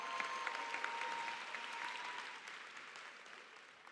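Applause from the audience at a high school commencement ceremony held at a university venue, a broad sustained wash of clapping from a crowd, moderately distant and slowly tapering.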